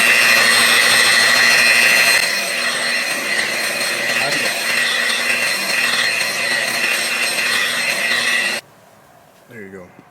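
A car polishing machine buffs paint with a steady, loud high-pitched whine that eases slightly after a couple of seconds, then stops abruptly, leaving a quieter room; a voice talks over it.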